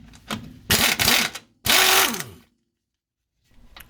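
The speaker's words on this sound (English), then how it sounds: "So I'm just using my impact wrench to loosen and get these off." An impact wrench loosening the lower shock absorber bolts on a C3 Corvette gives two loud, rattling bursts, each under a second, close by, followed by silence and a faint tail of noise.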